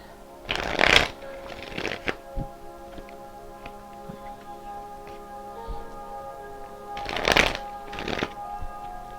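Tarot cards shuffled by hand in two quick bursts of riffling, near and fairly loud, separated by quiet with faint ticks and a low steady hum.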